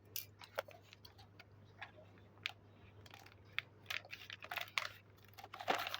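Crinkly plastic packet of baby chocolate marshmallows being torn and pulled open, a run of small sharp crackles and ticks close by over a steady low hum, with no talking.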